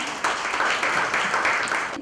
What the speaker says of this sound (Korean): 네, 다시 한 번 박수 부탁드립니다.